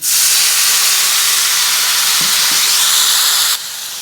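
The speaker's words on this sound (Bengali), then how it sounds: "সামান্য একটু জল দিচ্ছি গুঁড়ো মশলা দিয়েছি" Loud steady hiss as a little water is poured onto powdered spices and chilli powder frying in a hot pan, cooking drumstick pods with fennel and poppy seed; the sizzle holds strong then drops suddenly near the end.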